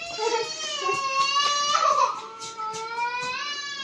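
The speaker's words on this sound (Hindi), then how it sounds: "रोने की आवाज आ गई है वहां से" A small child cries loudly indoors in a home, wailing in rising and falling sobs for a few seconds without pause.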